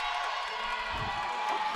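A crowd at a women's college basketball game cheers steadily after a layup, a broad continuous roar with a few whoops, under light background voices.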